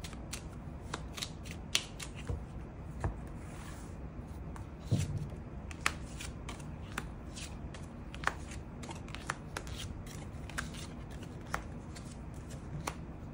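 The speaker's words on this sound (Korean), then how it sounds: "8번 분들 추가 카드로 일별로 월요일부터 일요일까지 어떤 하루를 보내게 될지 추가 카드 뽑아보도록 하겠습니다" Tarot cards being shuffled and drawn for a weekly fortune reading, a steady run of soft papery riffles and flicks with sharper snaps now and then, close and quiet, with no voice.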